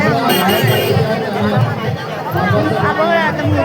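Dense crowd chatter fills a Ganpati gathering in Dadar, Mumbai, a steady hubbub of many overlapping voices close around the listener with no pause.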